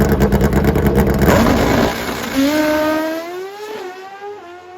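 Gaige Herrera's Vance Hines drag racing motorcycle makes a shutoff pass, a loud close engine roar that shifts upward and then fades as it runs away down the strip.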